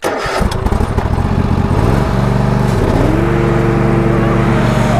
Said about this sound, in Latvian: Tūlīt brauksim stāvajā kalnā un apstīsimies, ko tas traktoriņš var.